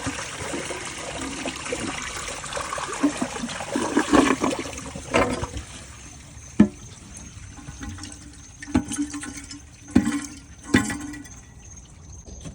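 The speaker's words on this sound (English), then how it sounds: "hold the handle down. And you want to flush. And you want all this water draining out of the bowl." A household toilet flushing, water rushing and draining out of the bowl during a fill valve replacement, a steady wash of water with a few sharper clunks and gurgles as the tank empties, close and alone without talk.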